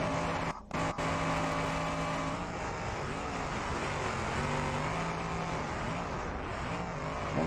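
A race car roars down a Beam 2k21 track, a sustained loud engine note with shifting pitch as it passes, a brief dropout near the start, and no talk.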